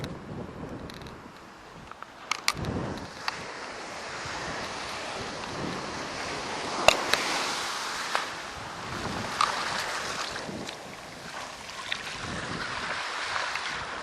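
Rough ocean surf at Sebastian Inlet roars in a steady broadband wash, with heavy wind buffeting the microphone and occasional sharper gusts and crashes, no voices.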